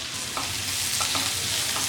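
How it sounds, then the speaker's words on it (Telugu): Onions with green chilies and salt fry steadily in a pan, a loud, continuous sizzle with a few soft scraping stirs of a spoon through it. "వీటిని కొద్దిగా దూరగా వేయించుకోవాలి"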